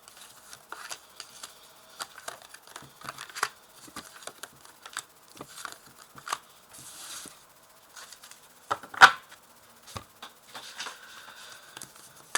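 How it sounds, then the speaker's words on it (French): Tarot cards are shuffled and drawn by hand, giving a run of soft, irregular papery taps and flicks with brief pauses and one sharper snap, close and fairly quiet with no talking. "Je vais tirer 5 cartes."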